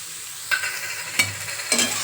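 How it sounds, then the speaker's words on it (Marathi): Spoon stirring misal ingredients with tomatoes and coriander in a frying pan: three distinct scraping strokes over a quiet sizzle, close and fairly soft. "हे पण छान असं हलवून घेऊया."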